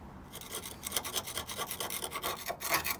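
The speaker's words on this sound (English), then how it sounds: "and just scrape off the loose." Scraping loose rust off a car sill with a hand tool, close rasping strokes repeated in a steady back-and-forth rhythm.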